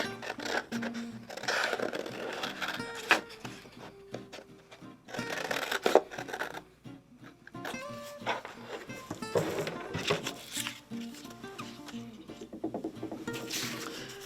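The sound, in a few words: scissors cutting paper shape for collage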